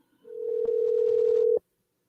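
A single steady electronic ringback tone from an outgoing phone call, one long buzz lasting just over a second, then silence.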